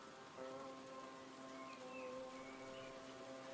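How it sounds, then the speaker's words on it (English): Heavy storm rain falls steadily on surfaces, a continuous even hiss of drops with a faint tonal hum underneath and no speech. "It's raining a storm out there."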